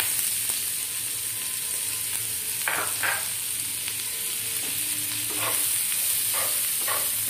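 Chopped onion fries in a pan with panch phoron spices for egg curry, giving a continuous close hiss and crackle with a few soft spoon scrapes now and then, and no talking.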